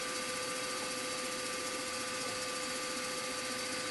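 Machine tool running a small reamer at 1000 RPM while machining a part for a model Webster engine: a steady, dense mechanical whir and hum with a constant tone, continuous and even throughout, no voice.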